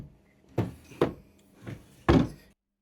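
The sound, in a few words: hotel room drawers being opened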